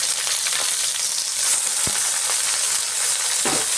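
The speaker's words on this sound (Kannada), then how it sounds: "ಸೊಪ್ಪು ಸೇರಿಸ್ಕೊಂಡು ಇದನ್ನು ನಾವು ಚೆನ್ನಾಗಿ ಫ್ರೈ ಮಾಡ್ಕೊಳ್ತಾ ಇದ್ದೀನಿ" Chopped spinach and onion frying in a pan, a steady close sizzle with occasional light stirring taps and scrapes.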